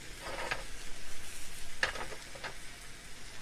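French toast, bread dipped in custard, frying in a pan with a faint, soft sizzle and a few small crackles, quiet and steady with no talking.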